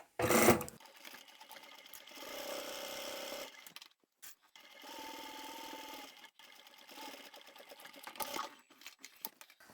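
A sewing machine stitches fabric close to a zipper on a small zippered pyramid pouch, running in several bursts of rapid whirring with brief pauses between runs, close and clear with no talking.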